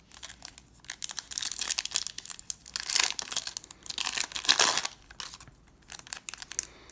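Crinkling and tearing of a 2019 Topps Chrome Update trading card pack wrapper, close and loud, in uneven bursts of rustling and ripping with no talking.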